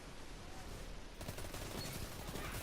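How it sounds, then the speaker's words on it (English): Rapid auto rifle fire in a PvP video game crackles in a steady, dense stream, faint and distant-sounding at first, then growing fuller and more continuous partway through. "this is when I switched to the auto rifle, and check it out"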